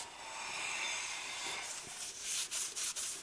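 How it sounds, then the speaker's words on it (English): Cloth wiping a brake rotor clean on a Chevy Suburban front brake job, a steady close rubbing swish that runs throughout with a few quick strokes near the end. "Go ahead and do a final clean up on our rotor here."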